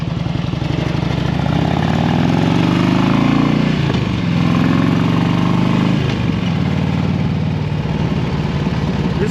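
A Harley-Davidson motorcycle with a fuel-injected engine runs steadily and close by, with a deep, loud low rumble that dips briefly twice as if shifting or easing off, with no talking.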